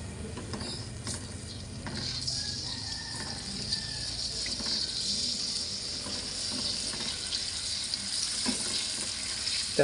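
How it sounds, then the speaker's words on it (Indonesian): Spice paste sautéing in hot oil in a pan, a steady close sizzle with faint scraping and stirring clicks throughout. "Kita tumis bumbunya sampai berbau harum."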